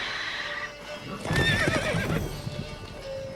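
In The Witcher 3, a horse neighs loudly over hoofbeats, a shrill whinny rising above steady clip-clop galloping.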